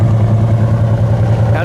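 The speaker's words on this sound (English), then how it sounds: "It's been sitting here idling for 5, 6, 7 minutes while we're doing this video" A 1969 Chevelle SS sits idling after several minutes of running, its engine giving off a steady, loud, even rumble with no misses.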